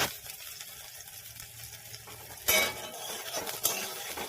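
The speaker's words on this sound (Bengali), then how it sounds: "পেঁয়াজ লঙ্কাটা একটু ভেজে নিই হালকা হালকা করে" Sliced onions and chillies fry lightly in a hot kadai (wok) for upma, a soft sizzle at first, then louder scraping and stirring strokes in the second half, with no talking.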